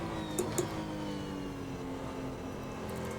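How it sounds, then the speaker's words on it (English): A race car engine in the video game Automobilista 2 hums steadily at low revs, a continuous droning tone with a couple of brief clicks near the start. "It does sound quite low revving."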